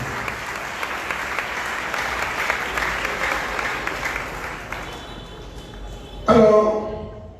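A congregation claps through a Sunday worship service, with a long, dense, fairly loud burst of applause that fades out, followed by a short sharper sound at the end.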